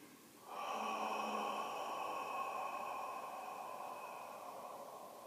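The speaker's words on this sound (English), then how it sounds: "Now you can also do it with an inhale with the mouth closed and then an exhale with the mouth open, and that would sound like this." One long, loud Ujjayi yoga breath, drawn in through the nose with the mouth closed and then released, sounds as a hissing, throaty rush of air. It rises sharply, then fades slowly over several seconds.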